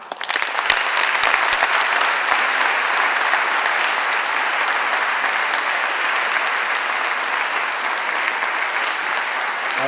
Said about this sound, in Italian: io direi adesso un applauso